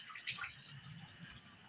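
Warm water running from a bathroom tap into a sink during cleaning, a faint, close, steady splashing hiss lasting under two seconds, with nothing else heard.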